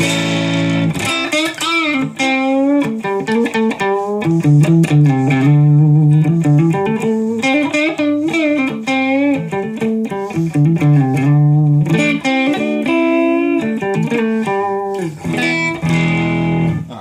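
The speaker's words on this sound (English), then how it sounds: "So you can kind of hear it's overdriving my RP1000." Loud, sustained electric guitar overdriving a DigiTech RP1000 multi-effects processor through a Moen Buffalo pedal, chords ringing continuously with a thick, distorted, processed tone.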